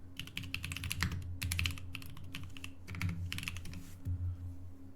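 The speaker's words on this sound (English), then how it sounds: "I'll just type in CERN opening ceremony," Rapid bursts of typing on a computer keyboard, close and fairly loud, with clustered keystrokes separated by short pauses over a steady low hum.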